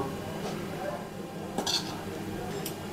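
Ingredients for chicken cheese balls, including minced chicken, milk powder, chili flakes and chopped coriander, are mixed in a bowl with soft clinks and scrapes against the dish over a low, steady background.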